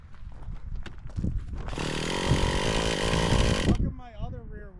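Nitro-powered RC car engine buzzing at high revs at a construction site, a loud raspy whine lasting about two seconds amid clattering and people talking.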